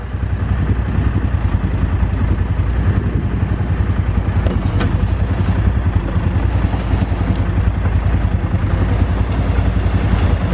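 A backhoe's diesel engine runs steadily and loud while it scoops gravel, a constant close rumble with faint clatter and no pauses.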